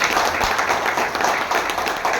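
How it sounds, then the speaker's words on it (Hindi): An audience claps together in a hall, a steady wash of applause heard close and fairly loud. "एक बार ताली बजाओ ऊपर वाले के लिए।"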